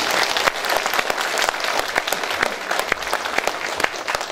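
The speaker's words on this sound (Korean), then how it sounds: "우리 시장님 박수 한번 드립니다" Steady, dense applause for the mayor of Jeonju from an outdoor crowd at a walking event in Deokjin Park, sustained for several seconds with no talk over it.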